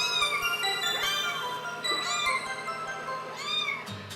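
Several stray kittens meow repeatedly and close by, their high, rising cries overlapping in a steady chorus with a low hum beneath.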